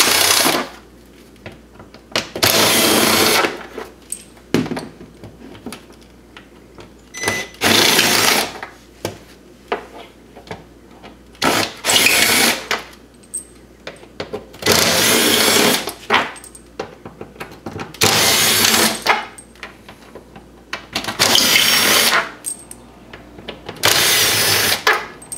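Power driver spinning out the T30 bolts around the clutch cover of an Arctic Cat Wildcat Sport during a CVT belt change, heard as repeated loud whirring bursts of about a second each, separated by short pauses, with no talking.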